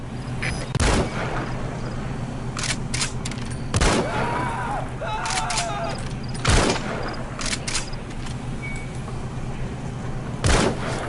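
Sniper rifle shots in Metal Gear Solid V: The Phantom Pain, four loud, sharp cracks spaced a few seconds apart over a steady background hum, with faint game sounds between them.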